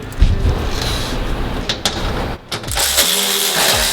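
A ratchet clicks through 10 mm bolts during removal of a car radiator for a Honda Civic FL5, giving close, steady mechanical ratcheting bursts with short pauses between turns.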